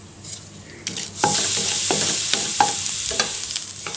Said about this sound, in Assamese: এই ঘিত পাঁচফোৰণ আৰু শুকান জলকীয়া অকণমান দিছোঁ।